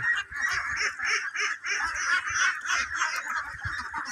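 A flock of Khaki Campbell ducks calling together with dense, overlapping nasal quacks that keep up a loud, continuous chorus from start to finish.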